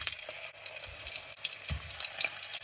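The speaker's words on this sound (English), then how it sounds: "So now that I think my oil is hot, I'm going to put my plantains in here." Green plantain pieces go into hot frying oil and set off a steady, close crackling sizzle with small bursts of spattering, without talk.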